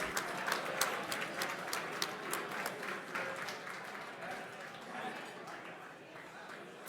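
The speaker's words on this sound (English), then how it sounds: "Round of applause, please." Audience applause at an M&A awards gala, a steady patter of many hands clapping, fairly quiet and distant, with crisp individual claps standing out early and the sound thinning slightly toward the end.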